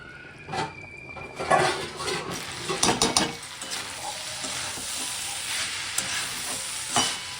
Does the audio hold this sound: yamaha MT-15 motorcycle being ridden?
no